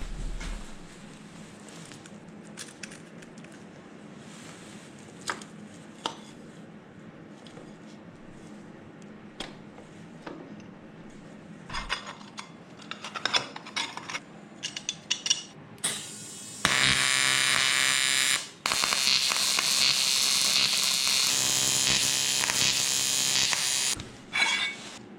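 A dry clutch hub on a 20-horsepower moped build is welded in place: after quiet clicks and handling noises, a loud, steady crackling hiss runs for several seconds, briefly interrupted once.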